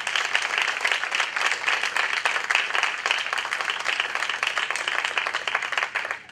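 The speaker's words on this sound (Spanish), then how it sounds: "Alguien aquí le da un aplauso al Rey de Gloria." A church congregation claps for the King of Glory, a dense, steady wash of many hands lasting throughout at even loudness, with no voices standing out.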